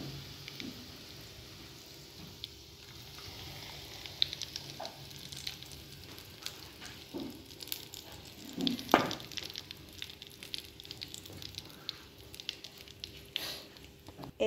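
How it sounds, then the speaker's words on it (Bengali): Hot garlic oil hits a bowl of chili flakes with a soft, steady sizzle and crackle that runs throughout, with a few sharper pops partway through, heard close up and fairly quietly. "চিলি ফ্লেক্সের ভিতরে এই গার্লিক অয়েলটা দিয়ে দিলাম।"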